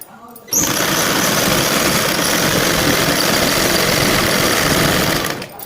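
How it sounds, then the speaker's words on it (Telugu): A sewing machine runs continuously, stitching the edge seam of a Punjabi dress pant, a loud steady mechanical whirr that starts abruptly after a short pause and stops near the end. "మొత్తం ఈ పాదం దగ్గరకు నుంచి అటు సైడ్ పాదం వరకు కూడా ఎడ్జ్ కుట్టు అయితే వేసుకోవాలి"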